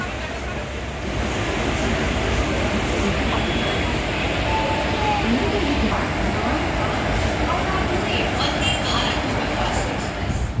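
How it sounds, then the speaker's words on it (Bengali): A Vande Bharat train running, heard as a loud, steady rumble and rush of wind and wheels, continuous from start to finish after a brief quieter opening. "তোমরা এতক্ষণে বুঝতে পেরে গেছো আমরা কোন ট্রেনে যাচ্ছি বন্দে ভারতে"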